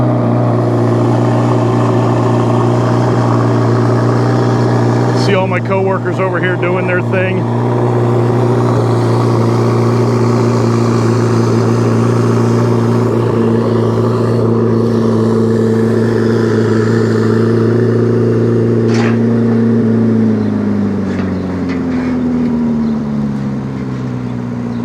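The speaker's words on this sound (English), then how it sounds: "I wanted to make sure we captured the ZR1 coming off the truck here at Ciocca Corvette in Atlantic City" A Chevrolet C8 Corvette ZR1 idles and rumbles steadily as it drives off a transporter truck at a dealership in Atlantic City, the loud engine drone shifting near the end, while someone talks briefly over it.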